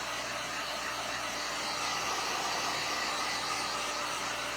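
A hair dryer blows a steady, even whoosh close by while drying a thrifted frame craft piece, running without a break and with no voices.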